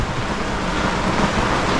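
Torrential rain pounding on a sailboat in the Caribbean, a dense, loud, continuous roar of downpour with no gaps, heard up close and alone.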